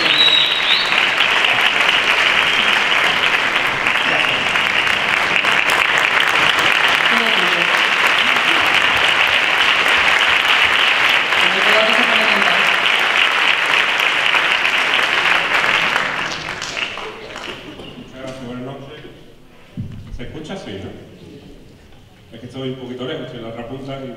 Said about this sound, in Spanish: Podéis seguir aplaudiendo mientras hasta que venga.